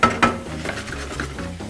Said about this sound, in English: with a little bit of red wine just to kill this pan with a tish